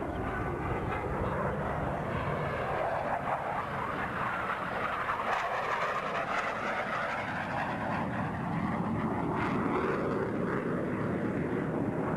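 Four military jets in diamond formation at a 1991 air show at Quonset Air National Guard Base roar overhead, a continuous distant-to-near engine rumble that swells and fades across the sky.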